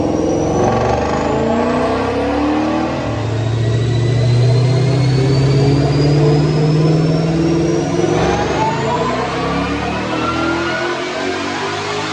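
A 2020 GT500 with a JLT cold air intake revs hard on a dyno, a loud, close engine roar climbing steadily in pitch through a long sustained pull with a rising whine.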